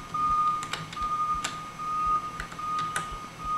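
A repeating electronic alarm beeps in the horror video game Mind's Eye, short steady high tones recurring at a regular pace with a few sharper clicks between, moderately quiet and heard alone.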